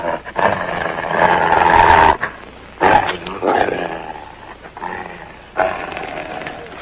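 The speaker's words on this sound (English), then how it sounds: "That's a dog." A dog growls and snarls in short, rough bursts from close by, broken by brief pauses, in a 1948 Western film scene.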